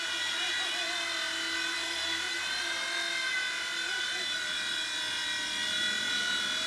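A WL Toys V911 RC helicopter flies with a steady, high whirring rotor buzz that holds evenly throughout, fairly close and loud, with a slight rise and fall in pitch.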